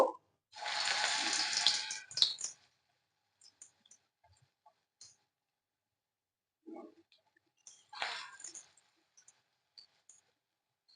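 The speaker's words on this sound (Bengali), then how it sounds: "তেলটা কিন্তু গরম হয়ে গেছে, এবারে আমি ছোট ছোট করে ফুলুরি গুলোকে দিয়ে দেব।" Small spoonfuls of radish fritter batter drop into hot mustard oil. Each sets off a brief, bright crackling sizzle, with two bursts separated by near silence and a few faint pops and clicks.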